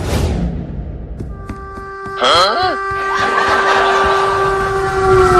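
A cartoon train running, with a rumbling roll, a sustained whistle-like horn tone that starts mid-clip and holds to the end, and an excited cartoon voice shouting over it.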